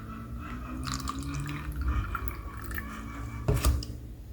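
Lime diluted in water trickles and drips into a Bordeaux fungicide mixture, a soft close splashing pour with a brief louder gush near the end.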